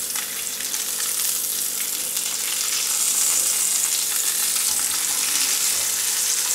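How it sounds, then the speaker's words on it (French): Porcini mushroom sauce reheating in a pan gives off a steady, even sizzle that holds at a constant level throughout, with no talking. "J'ai ma sauce au cèpe ici. On va la réchauffer et ce sera prêt."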